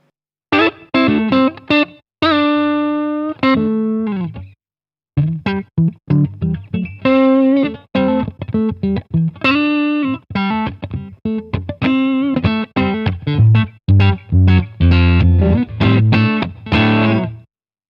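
Electric guitar played through a Fender '57 Custom Deluxe amp with distortion and a subtle light reverb tail, a series of strummed chords and picked notes with brief pauses, no voices.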